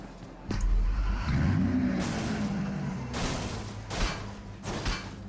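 A car engine revving in PUBG Mobile, a loud, close surge of acceleration that rises and holds, with a few thumping knocks and bursts of noise layered over it.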